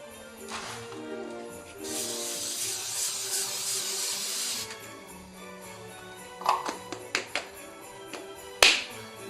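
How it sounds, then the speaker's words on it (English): An aerosol can of non-stick cooking spray hisses in a steady spray for a few seconds, followed by scattered clicks, taps and a sharp knock nearby. "spray it with cooking spray, non-stick cooking spray"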